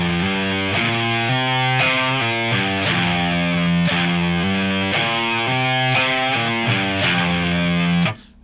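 A heavily distorted electric guitar plays half a bar of a stoner rock pentatonic riff, with sixteenth-note triplets falling into eighth notes. Chunky, repeated picked phrases ring out loud and close, then stop abruptly.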